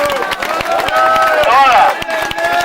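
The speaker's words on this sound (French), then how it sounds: "Et on l'applaudit chaleureusement." A crowd claps at a village fête in Blehen during a mock presidential election, a quick, regular patter of hands under a loud voice speaking over the applause.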